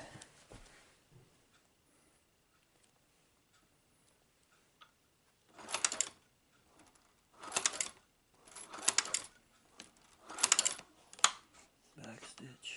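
A shoe patcher sewing machine back-stitching Vans sneakers makes several short bursts of rapid mechanical clatter separated by quiet pauses, with some brief talk nearby.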